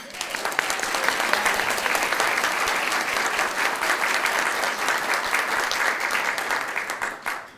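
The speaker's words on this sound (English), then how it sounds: "judging by that applause" Sustained, full applause from a conference luncheon audience at a humanist awards event, many hands clapping in a dense, even roar that holds steady for several seconds before tapering off.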